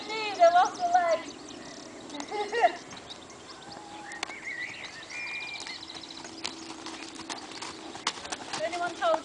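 A horse's hooves clip-clop in a steady, moderately close rhythm during a riding lesson, with sharp individual hoofbeats under an instructor's frequent talking.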